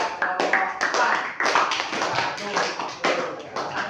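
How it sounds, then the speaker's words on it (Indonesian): A classroom group of students claps for a presenting group, a dense burst of hand claps filling the room for several seconds, with voices mixed in. "kalau cukup kita beri aplaus, tepuk tangan buat kelompok"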